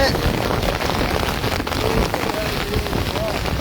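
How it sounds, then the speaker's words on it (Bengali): Heavy rain pours down in a dense, constant roar, loud and unbroken throughout. "প্রচুর বৃষ্টি হচ্ছে এখানে, প্রচুর বৃষ্টি হচ্ছে।"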